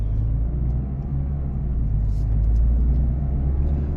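A car pulls away from a traffic light during a driving test, giving a steady, close low engine rumble that swells slightly as it moves off, with no talking.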